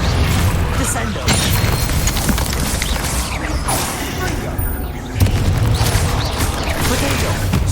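Hogwarts Legacy combat: a Descendo spell slams down in a heavy burst of booming, creaking impacts, loud and dense amid game music and effects, with a sharp surge near the end.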